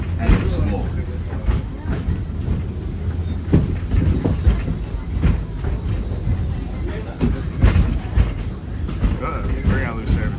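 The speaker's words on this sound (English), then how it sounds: "Remain seated until the train comes to a complete stop" A Disney World ride train rolls steadily along its rails, with a constant loud rumble and rhythmic clacking wheels close by, while voices murmur throughout.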